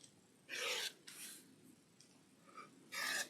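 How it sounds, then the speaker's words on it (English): Quilt block fabric edges being trimmed, heard as a few short, quiet rasping cuts separated by pauses in a calm room. "I'm going to trim this one up a little bit because it's not quite precision"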